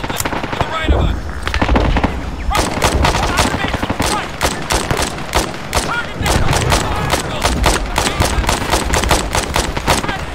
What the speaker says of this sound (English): Just putting down some suppressive fire.